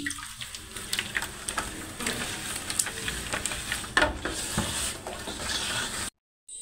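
Oil being stirred into a chicken broast marinade in a bowl, giving a continuous wet, squelching and scraping sound with small clicks, close and moderately loud, with no speech.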